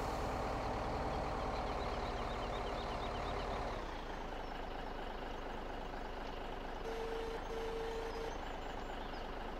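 A truck hauling a low-loader trailer in Landwirtschafts Simulator 17 rumbles steadily while maneuvering, engine drone shifting partway through, with intermittent tonal beeps later on; no voices.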